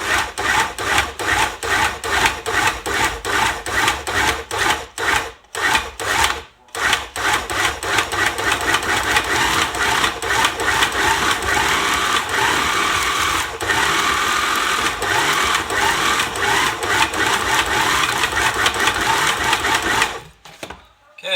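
A hand-held kitchen appliance blends a thick milkshake in a steady, loud, continuous whir. The grinding buzz runs almost unbroken for around twenty seconds, with a couple of short stops, and no one speaks.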